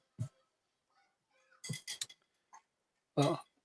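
A cat in a video game lets out several short, bright meows in separate bursts, with faint clinks and pauses between them.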